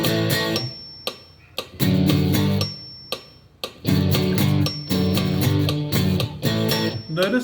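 Guitar plays along with a backing track of drums and bass, strummed chords in steady rhythmic bursts with sharp percussive hits and short gaps, close and fairly loud with no talking.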